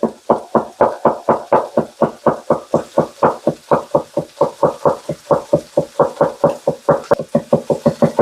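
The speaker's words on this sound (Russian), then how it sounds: "Давайте нарежем лук." Onion chopped with a sharp, light, sickle-shaped knife: a loud, steady, even rhythm of close, thudding cuts against a board, about four strokes per second, with no talking.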